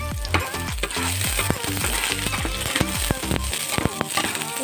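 Garlic sizzling as it browns in a hot pan, with a steady crackling fry and scattered clinks and scrapes of a utensil stirring throughout, close and continuous.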